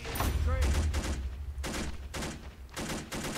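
Gunfire in the World War II strategy game Men of War: Assault Squad 2: bursts of rapid shots crackle in repeated clusters over a low rumbling battle background, with a player's voice faintly present.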